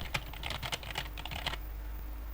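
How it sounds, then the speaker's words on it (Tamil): Short burst of typing on a computer keyboard in the vi editor on Linux, with quick, close keystrokes for about a second and a half, then quiet room tone. "ஸோ இதில் வந்து நான் பேசிக்காக ஏதோ டைப் பண்ணுறேன்."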